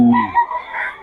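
A rooster crows at a chicken market selling cheap birds, one strong call with a falling tail, close and loud, followed by a faint murmur of background noise.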